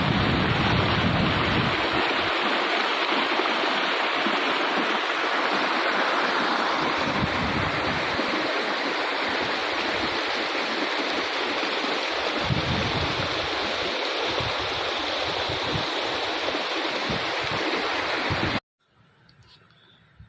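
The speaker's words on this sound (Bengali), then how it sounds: "এখান থেকে ঝর্ণাও পড়ছে। এই যে ছোট ঝর্ণা আছে একটা।" Constant rushing water from a small waterfall at Jayanti Mahakal, Alipurduar, a dense steady hiss close by that continues unbroken, then cuts off abruptly near the end.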